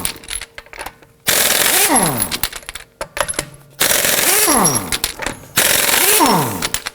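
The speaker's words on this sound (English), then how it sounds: "let's loosen and remove our lug nuts." An impact wrench with a 21mm socket rattles in three loud bursts, loosening and removing lug nuts on a 2018-2024 Toyota Camry wheel, with short quiet gaps and clinking between bursts.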